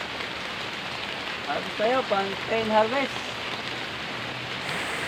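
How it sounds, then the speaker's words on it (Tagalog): Steady rain pours down on a bitter gourd (ampalaya) farm during a typhoon, a constant broadband hiss running throughout, with a person speaking briefly over it midway. "Maulan dito sa amin kagulay."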